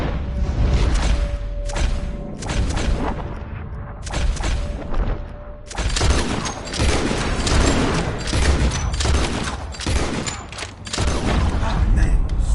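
Rapid bursts of gunfire from Red Dead Redemption 2, loud and near, with repeated shots and booms that grow denser in the second half, under a steady game soundscape.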